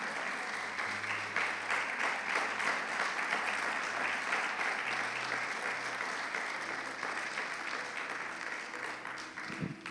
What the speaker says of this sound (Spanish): Démosle un aplauso al Señor por su palabra.